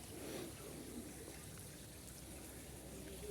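A small waterfall at a guesthouse in Slavske on a hot day gives a faint, steady watery hiss and splash with no breaks, heard on its own without talk.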